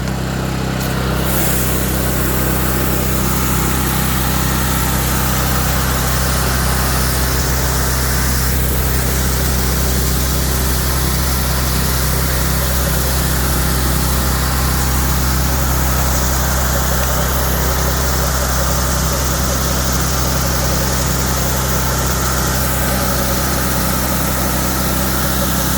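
A North Star 47-inch surface cleaner runs under a constant engine drone with a low, steady hum and some vibration throughout, unbroken and close.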